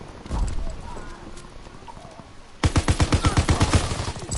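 Gunfire in a PS4 video game, a rapid automatic burst of evenly spaced loud shots that starts abruptly partway through after quieter game noise and a voice.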